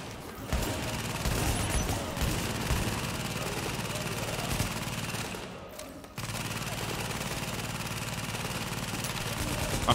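Deployed automated turret gun from The Division firing in steady sustained bursts, loud and continuous with layered game ambience, a brief dip midway before the rattle resumes.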